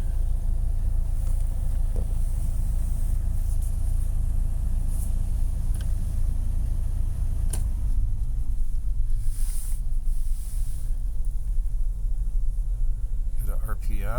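A 1985 Toyota FJ60 engine idles on a cold start with the choke out, making a steady, low, close rumble throughout, with someone talking over it.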